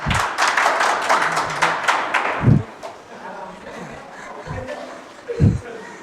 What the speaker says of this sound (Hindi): शाबाश, एक बार जोरदार तालियां।